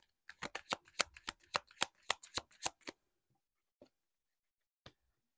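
Tarot cards shuffled by hand in a quick run of about a dozen crisp riffling snaps, close and clear, followed by two isolated card taps after a pause.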